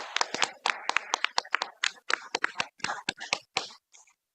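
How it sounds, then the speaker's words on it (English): A small group claps at a city council meeting, the sharp, irregular hand claps close and distinct for about four seconds before tapering off into silence. "please join me in giving them a round of applause"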